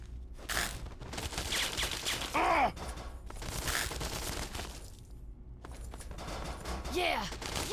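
Gunfire from a firefight in Fallout 3 with a no-kill mod, an assault rifle and minigun among the weapons: dense, ragged bursts of shots come in clusters with short gaps, loud and close, mixed with other game noise.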